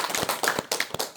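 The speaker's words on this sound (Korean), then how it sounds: "박수 한번 쳐주세요." Audience clapping in a lecture hall during a talk on Admiral Yi Sun-sin, a short burst of fairly sparse, close hand claps in an irregular rhythm with no voices.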